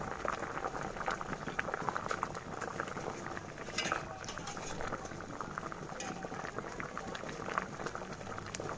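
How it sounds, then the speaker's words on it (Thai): Snakehead fish soup with pickled bamboo shoots bubbling in a covered pot, a steady continuous boil with soft popping and rumbling, close and even throughout. "ปิดฝาต้มให้เดือดค่ะ เดือดปุดๆแล้วนะคะ"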